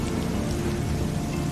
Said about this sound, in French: puis il se met à pleuvoir.